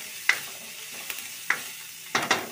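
Onion frying in hot oil in a pan with chilli for a Maggi noodle dish, giving a faint steady sizzle punctuated by several sharp clicks and scrapes as it is stirred.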